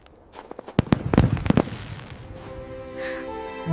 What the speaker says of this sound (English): Fireworks lit up the sky, but not her frozen heart